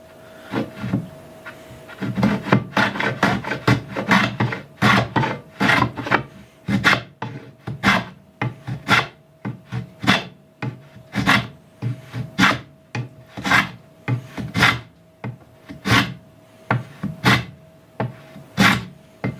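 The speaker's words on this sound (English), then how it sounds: "So I'm just taking a block plane and I can stand this up on end." A hand block plane smoothing the edge of a wooden board for a five-board bench, about thirty rasping strokes in a steady back-and-forth rhythm, close and clear with no talking.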